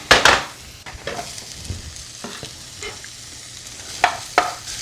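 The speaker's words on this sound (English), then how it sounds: "Give them a quick saute." Peppers sizzle in olive oil in a pan while a utensil stirs and scrapes, with a few sharp bursts of frying and clatter between quieter stretches.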